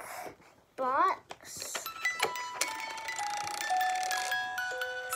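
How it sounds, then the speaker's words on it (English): A ballerina music box plays a tinkling, bell-like melody of sustained metallic notes after someone speaks briefly at the start. "I'm gonna turn on my ballerina music box."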